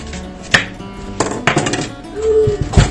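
A knife is pushed through a fresh melon, cutting it in half on a kitchen board, with a few sharp knocks and a scraping slice followed by a dull thud, close and clear, with no talking.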